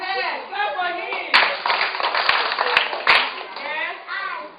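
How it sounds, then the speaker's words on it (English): A classroom of children bursts into a round of clapping for a classmate, a dense patter of hands lasting a couple of seconds, bracketed by an adult's voice speaking before and after. "Go ahead, clap for him."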